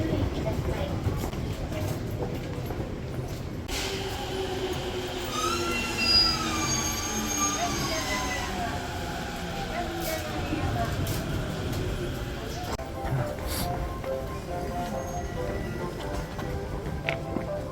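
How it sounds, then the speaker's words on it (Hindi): Inside a moving train bound for Shinagawa in Japan, a steady rumble of rails and car noise runs throughout, with long squealing wheel tones rising and falling over it and brief voices in the background. "यार टाइम हो रहा है तो पहले ट्रेन पकड़ते हैं"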